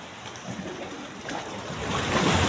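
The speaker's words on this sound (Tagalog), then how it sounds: "Maalon-alon dito sa loob. Tila baga buhay ang tubig dito sa loob." Sea water surges and sloshes inside a sea cave among rock islets, a continuous hollow rush of waves that swells louder toward the end, with no voices.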